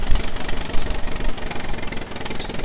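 An engine on a Massey Harris Pacemaker 12-20 orchard tractor runs loud and close, a dense, rough, steady chugging with a knocking pulse, and no voices.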